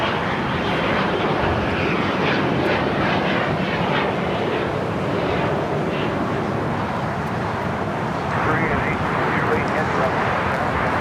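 Airliner taking off at LAX, a constant loud engine roar filling the scene with broadband rumble and a slight swell near the end, with a voice talking underneath.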